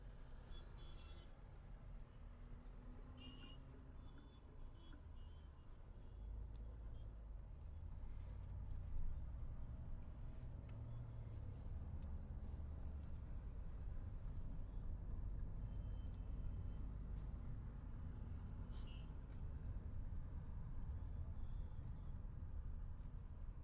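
Evening road traffic on Nagar Road in Wagholi, a steady low rumble of trucks, buses and cars passing, with occasional reversing beeps and air-brake hisses at moderate distance, continuous throughout.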